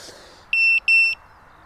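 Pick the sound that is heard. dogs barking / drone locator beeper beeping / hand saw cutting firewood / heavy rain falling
drone locator beeper beeping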